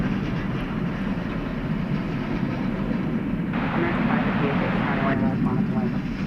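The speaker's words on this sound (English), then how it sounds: "Airbus A321." An Airbus A321 at DFW Airport at night, a loud, steady jet roar that swells partway through, with a voice faintly beneath it.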